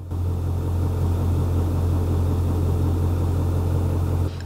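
A 2008 Ford 6.4-litre diesel engine idles at a steady, even low rumble, loud and close, with no voices, and cuts off abruptly just before the end.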